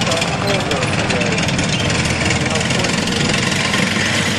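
A military vehicle with an open top and a rear-mounted engine tows a British 5.5-inch howitzer at a wartime vehicle show. Its engine gives a loud, steady, continuous rumble throughout.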